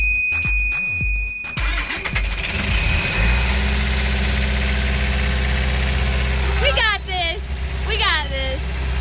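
A boat engine idles with a steady low rumble throughout, loud and continuous, after a brief burst of starting noise. Voices speak over it toward the end.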